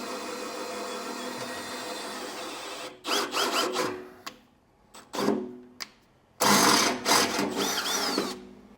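A power tool driving bolts on a 2020 Ford F-series truck whirs loudly in repeated bursts, starting with a steady run, then several short pulses and a long final burst, close by.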